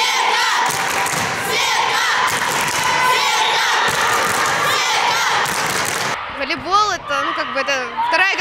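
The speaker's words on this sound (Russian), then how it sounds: "Иногда их кричалки звучали довольно громко." Teammates loudly chant and shout in unison from the stands at a girls' volleyball championship final, a dense crowd roar with bursts of cheering, followed near the end by a voice speaking over quieter background.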